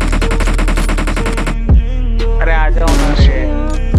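Automatic gunfire in the battle royale game BGMI: a rapid, evenly spaced burst of loud shots for about a second and a half, followed by a few scattered single cracks mixed with other game sounds.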